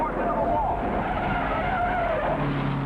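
An auto-racing car's tires screech in a sustained skid as it loses control and slides toward the wall, with an engine roar running underneath and commentary voiced over the top.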